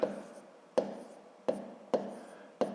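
Pen or chalk tapping and scratching as numbers are written by hand for a fifth-grade math multiplication exercise: five sharp, separate strokes spaced under a second apart, each fading quickly, close and fairly quiet.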